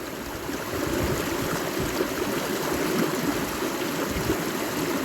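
A gold pan is swirled in a Scottish stream, with steady, close rushing and gurgling water that runs unbroken throughout.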